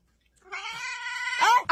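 A cat yowls in one long, rising, drawn-out wail up close, ending in a sharper strained cry, after a brief silence at the start.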